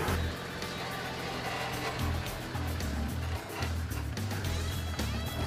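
A 4WD vehicle tries to climb a loose dirt hill in first gear with wheel spin, its engine droning steadily and loudly, pitch stepping up and down as the throttle shifts.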